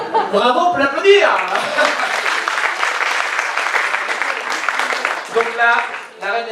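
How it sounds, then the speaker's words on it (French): An audience at an improv theatre festival breaks into steady, sustained applause and clapping that fills the room, with a few voices and a host speaking over it near the start and end. "Bravo, on peut l'applaudir."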